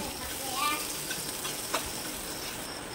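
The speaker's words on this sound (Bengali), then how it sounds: "এবার দিয়ে দেবো পেঁয়াজ কুচি, কাঁচামরিচ কুচি। পেঁয়াজটাকে ভেজে নেব।" Chopped onion and green chilli frying in oil in a pan, a steady close hiss of sizzling with faint brief clicks, no talk.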